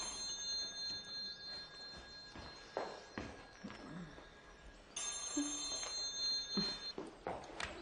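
A telephone rings in a Greek TV-series scene, giving a thin, high repeated electronic ring at moderate level, with light footsteps and room sounds between the rings.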